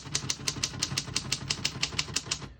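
Keys on a 1940 Corona Comet portable typewriter strike in a quick, even run of about fifteen sharp clacks, close and clear, ending abruptly.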